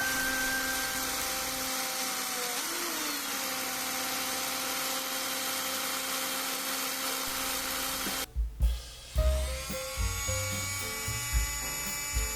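A Chinese-made cordless drill bores holes in the floor plate of an old Katsumi KiHa 82 model train car. It whines steadily and close for several seconds, then stops, followed by clicks and handling knocks.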